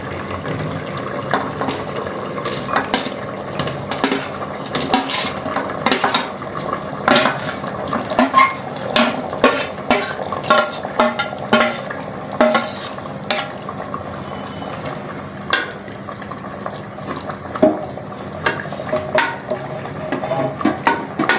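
Beef pieces stirred into boiling gravy in a metal pot, with repeated scraping and clinking of a spoon against the pot over a soft bubbling simmer, close and steady.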